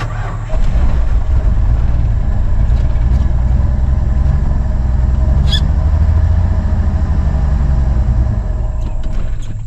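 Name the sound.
old Ford F-150 engine trying to start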